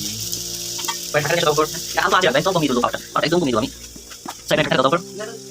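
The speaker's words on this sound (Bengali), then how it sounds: "এই কড়াইয়ের তেলে মোমোগুলো ভেজে ফেলি" Momos deep-frying in oil in a kadai give a steady, hissing sizzle throughout, with a person talking over it in bursts.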